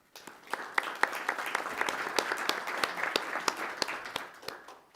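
Applause breaks out at a township council business meeting: a modest room of people clapping steadily for several seconds, sharp individual claps standing out, fading slightly at the end.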